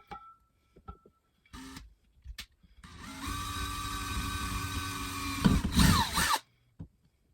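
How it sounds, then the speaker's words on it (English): A power drill pre-drills screw holes in wood for a small ceiling-light bracket, whining steadily for about three seconds close up, with brief trigger blips and handling clicks before and after. "I'm also going to pre-drill the screws and put this little bracket up into the wood."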